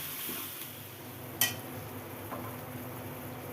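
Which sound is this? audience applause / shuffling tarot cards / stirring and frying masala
stirring and frying masala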